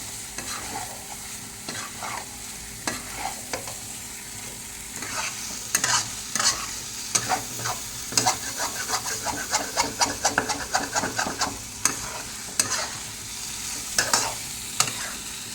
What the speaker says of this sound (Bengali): এবার বেশি বেশি কষানো হচ্ছে